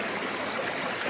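Waterfall water flowing steadily at Jose Ancheta Falls in Maddela, Quirino, a continuous close broadband rush and splash with no pauses and no voices.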